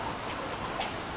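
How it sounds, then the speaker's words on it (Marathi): Rain falling outdoors in a Marathi rural setting, a dense steady hiss of drops on surfaces, fairly close and continuous, with no talking. "पाऊस काय थांबायचं नाव घेणार"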